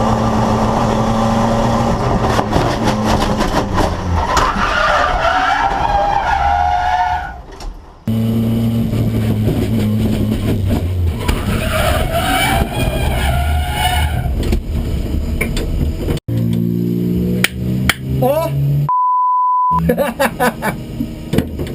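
A VW Gol track-day car loses a wheel and spins out, with loud sustained engine roar and tire skidding noise, a sudden cut, then scraping and a brief beep near the end.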